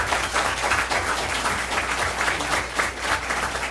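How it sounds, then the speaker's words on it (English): Audience applause at a city council meeting, a dense, steady wash of many hands clapping close and loud throughout, with no talk over it. "So another round of applause for this man."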